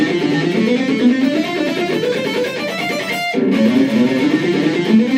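Electric guitar plays a scale sequence, each melodic pattern repeated twice on every string, a continuous run of quick notes, loud and close, broken by one brief pause before the run resumes.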